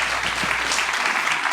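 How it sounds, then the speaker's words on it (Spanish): A church congregation applauds the Lord during a service, a loud, dense wash of many hands clapping together without a break. "denle ese aplauso, déselo con fuerza"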